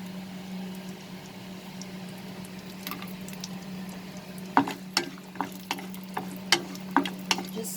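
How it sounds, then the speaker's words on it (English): Cashew nuts and almonds sauté in oil in a pan, a low steady sizzle with a hum beneath it, then a run of distinct stirring clicks and scrapes in the second half. "Just saute them a little bit."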